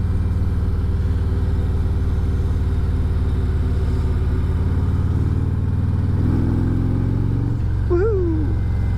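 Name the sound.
motorcycle riding through bends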